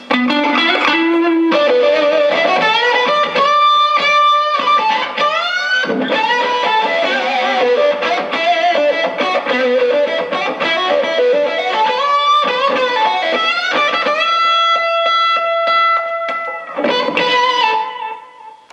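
Electric guitar played through an Octavia-style vintage distortion pedal, a loud, fuzzy, octave-tinged lead of bent notes and sustained chords that rings on its own for nearly twenty seconds before fading.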